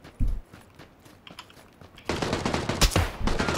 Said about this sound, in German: Ich pull Schüsse ran.